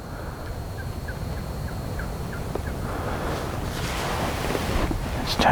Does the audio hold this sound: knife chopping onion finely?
no